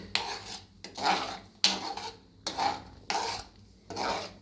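Maggi noodles being stirred in a pot with the masala mixed in, a spoon scraping the metal in repeated rasping strokes with short pauses between them, close and clear with no talking.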